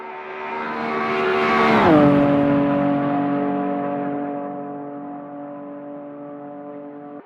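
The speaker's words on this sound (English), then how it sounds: "This is definitely a fun hill climb for the really fast cars." A race car engine in a video game hill climb at the Homburger revs up to a loud high-pitched scream, then holds a steady droning tone as it fades slightly, ending with a sharp click.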